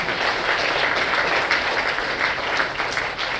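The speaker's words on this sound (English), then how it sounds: "give a big round of applause" Steady, dense applause from a conference audience as four panelists walk onto the stage at a technical session, filling the room evenly for several seconds with no talk over it.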